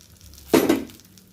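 A sudden sizzling splash as tamarind water hits a hot pan while making fish curry, hissing briefly for about a quarter second before fading back into quiet background.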